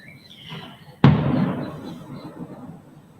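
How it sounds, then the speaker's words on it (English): Fireworks boom once in hazy outdoor air, a single sharp burst that rolls into a long fading rumble, heard from a distance and standing alone with no talk. "In this part of the world, generally, that's fireworks"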